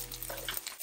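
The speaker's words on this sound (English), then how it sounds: "Fry up for about a minute or so." Ingredients fry in a pan with a soft, steady sizzle and light crackle, faint and close, with no talk over it.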